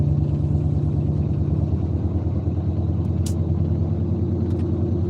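Heavy Atlanta road traffic comes through as a steady low engine drone and rumble from a nearby idling vehicle, constant throughout, with a brief faint click near the end.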